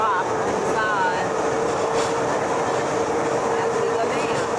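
A mountain train rumbles steadily down Mount Pilatus, a continuous close rolling and grinding of rail wheels with brief squeals, while voices murmur faintly beneath.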